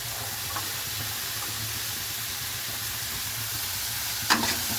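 Beans stir-frying in a pan for a homemade palya, a steady soft sizzle and hiss running throughout with a brief clink of stirring near the end.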